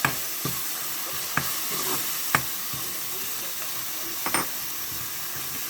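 Ground masala paste sautéing in a pan for a fish and crab curry, a steady close sizzle and hiss with occasional knocks of a spoon stirring against the pan.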